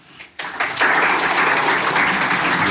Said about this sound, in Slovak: poprítajte prosím vás potleskom historika Dušana Kováča